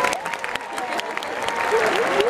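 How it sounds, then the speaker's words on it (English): An audience at a company family reunion event claps together in a dense burst of applause that holds steady, with a few voices audible in the crowd. "They just got a party, so we're going to clap for them."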